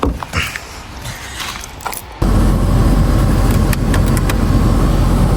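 After some clicks and rustling, a car engine turns over and settles into a loud, steady idle that runs to the end.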